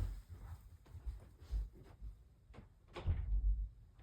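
A door is handled with a few soft knocks and clunks, then a louder thump as it opens, with light shuffling movement nearby.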